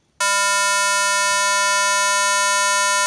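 A buzzer in a microcontroller circuit simulation with an ultrasonic sensor and a servo motor switches on abruptly and holds a loud, steady, harsh electronic tone without a break.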